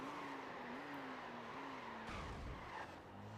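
A racing car in Gran Turismo on PSP brakes late into a turn, its tires squealing in a sustained skid over the steady engine drone, loud and close.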